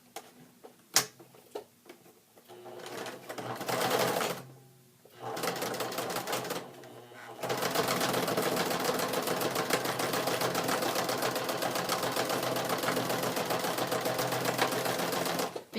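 A sewing machine stitches around the edges of a fabric collage pencil bag, starting with a few short bursts and then running a long, steady, rapid close-up chatter.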